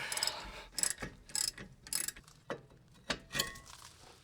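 Ratcheting wrench clicks in short bursts while loosening 49 lb-ft, 14 mm brake caliper bolts on a 2015+ Subaru WRX, with a few sharper metallic knocks between the bursts, close and moderately loud.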